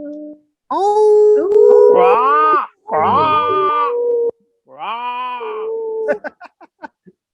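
Several people imitate wolf howls with their voices, giving long rising and falling vocal calls one after another, ending in a quick run of short clipped calls.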